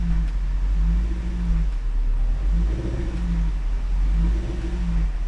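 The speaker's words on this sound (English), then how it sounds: "We're gonna see if we give it a rev." A supercharged Range Rover engine, running rich with an idle fault, hums at a steady idle with a few gentle revs rising and falling, close and continuous.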